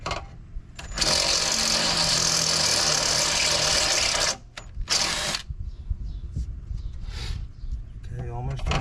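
A power drill bores a hole for a Quadratec rear bumper on a 2002 Jeep Wrangler, a loud steady whine for about three seconds, then a short second burst, followed by quieter knocks and a brief voice.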